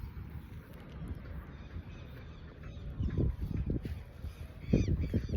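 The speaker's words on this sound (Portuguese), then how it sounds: "olha esse som dos pássaros" Birds calling at a lakeside in Interlagos park, honking goose-like calls rising in clusters over a continuous outdoor background, fairly close and loudest near the end.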